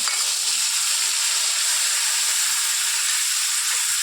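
Ginger garlic paste hits hot, lightly salted oil in a pan and sizzles with a loud, steady hiss that stays close and unbroken throughout.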